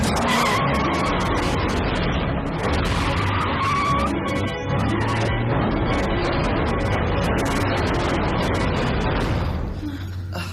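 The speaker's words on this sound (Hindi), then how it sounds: "अब जल्दी से गाड़ी स्टार्ट कर।" A car in a Hindi-dubbed Power Rangers Dino Thunder episode drives off with loud, continuous tire skidding and squealing over engine roar and a busy action soundtrack, close and sustained.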